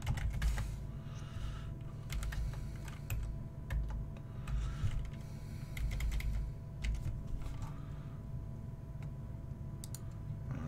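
Keys clack quickly on a computer keyboard as an email address is entered on a sign-up form, a close and steady run of taps with short pauses and some louder clicks.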